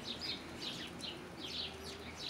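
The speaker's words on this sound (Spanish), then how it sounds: "Por allá se escucha el canto de los pajaritos." Small birds chirp and trill in quick repeated bursts, faint and somewhat distant, over a soft outdoor background hum, near a mesquite tree.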